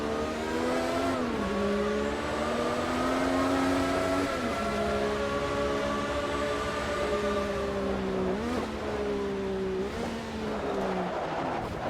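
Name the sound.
turbocharged 1984 F1 car engine, video game Automobilista 2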